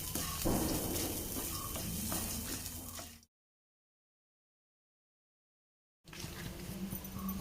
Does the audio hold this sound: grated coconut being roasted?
yes